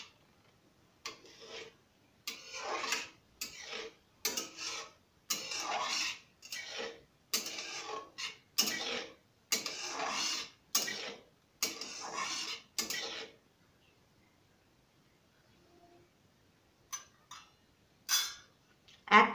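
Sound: stirring rasgulla chutney in a pan

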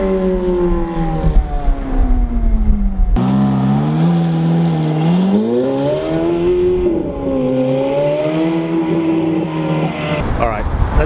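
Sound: Rolls Royce Dawn accelerating hard from a stop

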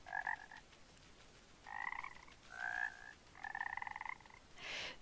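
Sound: frog croaking in a video game

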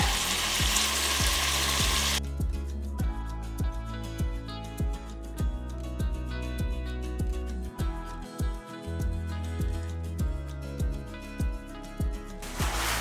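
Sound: sautéing mushrooms for parotta salna in pan

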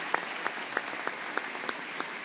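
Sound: audience applause at a medical congress

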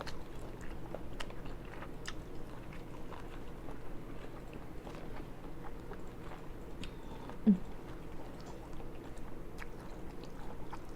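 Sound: chewing butter-fried seafood, squid and corn

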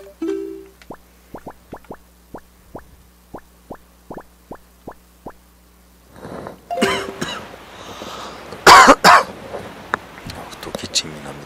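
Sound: coughing

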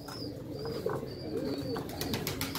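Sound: pigeons cooing

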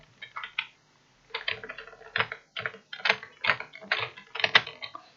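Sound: keyboard typing

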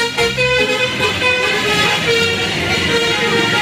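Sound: toy bus telolet horn tooting

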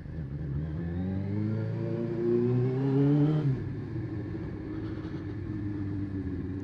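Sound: Suzuki GSXR 600 Srad motorcycle revving with noisy exhaust

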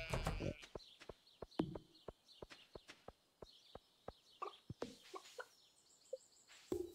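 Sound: chickens clucking in Stardew Valley video game

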